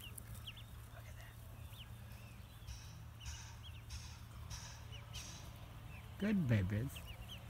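Three-day-old ducklings out of doors on their first day outside, with faint high peeping scattered through, a louder burst of calls near the end, and a person speaking briefly.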